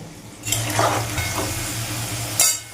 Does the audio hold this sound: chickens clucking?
no